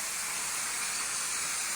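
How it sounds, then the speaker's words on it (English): Broadband hiss from a 275-degree vapor steam cleaner blasting pure water onto a 20-year-old, never-cleaned VCT floor, steady and loud throughout with no voices. "It puts out a lot of steam."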